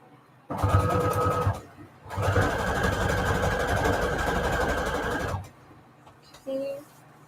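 A sewing machine stitches scraps of pink fabric, running in two steady bursts of about one and three seconds, loud and close, with a short pause between and a brief faint sound afterward.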